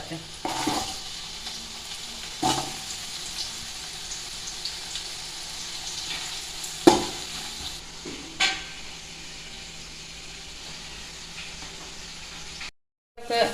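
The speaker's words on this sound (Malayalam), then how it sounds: "ഏതായാലും കുറച്ച് ഓയിൽ ഒഴിച്ചു കൊടുക്കട്ടെ ഇനി ക്യാരറ്റ് ഇട്ട് കൊടുക്കട്ടെ കേട്ടോ ഒന്ന് വാട്ടി" Carrots sauteing in hot oil for Bukhari rice, a steady sizzle with sharp clattering stirs and utensil knocks against the pan, close and fairly loud, ending in a brief silence.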